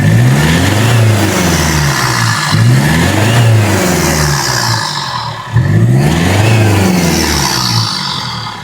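A Hyundai i20 diesel with a modified exhaust revs hard, a loud, steady engine drone rising and falling through two long pulls with a brief dip between them, close and without talk.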